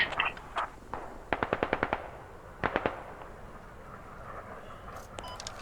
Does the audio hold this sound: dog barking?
no